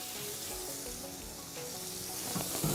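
Elk skewers wrapped in crispy bacon sizzle on a pellet grill, a steady close-up crackling hiss that swells slightly toward the end, with a faint tonal background underneath.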